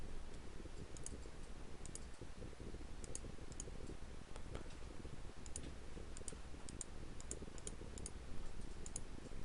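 Mouse clicking while modeling taxiway scenery in software, with short sharp clicks in small irregular clusters over a faint steady background hiss, close and quiet, with no talking.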